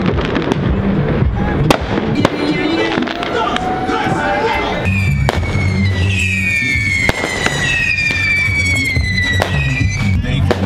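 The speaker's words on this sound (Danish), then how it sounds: "og der er gang i fyrværkeriet." New Year's Eve fireworks near the Copenhagen lakes crack and boom all around at close range, some whistling rockets rising, while a crowd cheers and people talk nearby.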